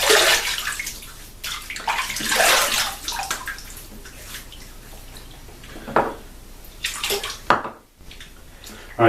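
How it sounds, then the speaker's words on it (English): Tap water runs and splashes into a basin as a face is wetted by hand before shaving, with uneven bursts of splashing and dripping, close and moderately loud. "So let me go ahead and wet my face real quick."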